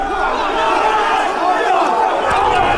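A dense London crowd on a Saturday, a steady roar of many voices and chanting that fills the whole stretch with no gaps, close and loud.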